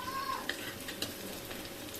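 Lentil fritters frying in hot oil, a steady close sizzle with a few light clinks from the pan.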